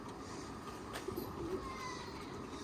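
A faint pigeon coo rises once in a kept coop, a brief low throaty call against quiet room noise.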